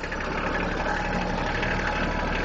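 Kubota tractor engine running during a ride through the woods, a steady dense rumbling drone that stays constant and close throughout, with no talk over it.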